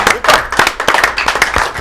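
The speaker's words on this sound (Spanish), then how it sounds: "El aplauso de bienvenida." Welcome applause for a music group on a gaita music show, a short burst of close, loud clapping from a small audience with distinct individual hand claps.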